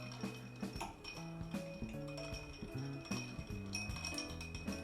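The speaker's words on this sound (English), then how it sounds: "you're going to stir and try to keep the back of your spoon against the glass" Spoon stirring ice cubes in a glass of whiskey, a rapid run of close, faint clinks and knocks against the glass, steady and continuous without talk.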